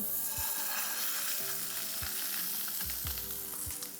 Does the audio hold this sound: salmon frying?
yes